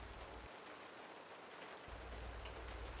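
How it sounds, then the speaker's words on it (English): Slow, steady desert rain falling at night, a soft, even hiss of drops on surfaces with a low rumble under part of it, quiet and continuous without voices. "It's raining outside"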